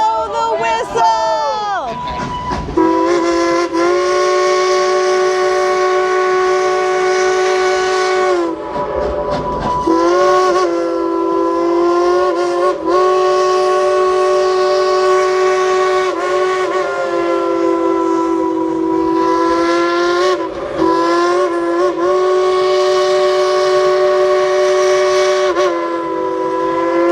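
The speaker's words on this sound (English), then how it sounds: "let's all tell that engineer up there to blow the whistle" A loud steam train whistle blows in long, sustained blasts with brief gaps, over a rumbling train and voices of a crowd nearby at a theme park railway.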